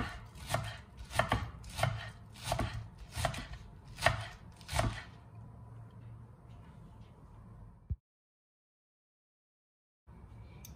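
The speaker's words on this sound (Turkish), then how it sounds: "şimdi soğanlarını doğruyorum" Onions chopped finely with a knife on a board for kısır, seven or eight crisp, evenly spaced knocks, then a quiet stretch and a short silent gap.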